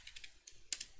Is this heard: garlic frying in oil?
no